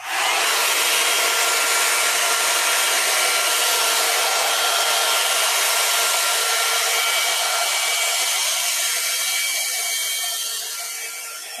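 A hair dryer blows steadily and loudly for about ten seconds, a constant airy whoosh alone with no talk, easing slightly in level near the end.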